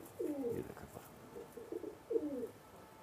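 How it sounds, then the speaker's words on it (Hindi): Two soft, low cooing calls from a pigeon, each a short rolling burst, separated by a pause, fairly close against quiet background. "और ये कबूतर है"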